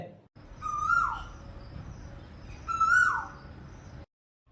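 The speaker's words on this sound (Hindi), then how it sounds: "यह आवाज नर कोयल की है।" Two loud, rising whistled calls of a male Asian koel, each about a second long, separated by a short pause, close and clear.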